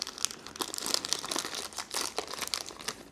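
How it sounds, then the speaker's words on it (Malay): Plastic packaging around a Blokees Star Wars building figure being torn and crinkled open, a steady close run of crisp rustles and crackles with no talking. "so kita buka dulu plastik yang ni"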